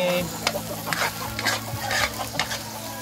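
A utensil scrapes and stirs through tomatoes sizzling in a frying pan, in repeated strokes, close and steady, with faint chicken clucking in the background.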